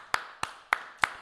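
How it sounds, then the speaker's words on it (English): Four evenly spaced single claps ring out, sharp and close, like one person clapping slowly rather than a full crowd. "Give them a round of applause, guys."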